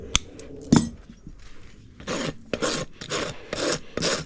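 A farrier's rasp files across a horse hoof with a toe crack, leveling and then beveling the toe: a series of close, loud rough strokes in steady rhythm after a few scattered knocks and clinks.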